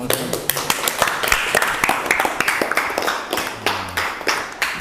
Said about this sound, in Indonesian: Iya, terima kasih, tepuk tangan untuk